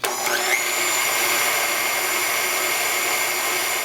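An electric hand mixer beats an egg into butter for oatmeal raisin cookie dough, a close, steady motor whine that holds level without pause for a few seconds.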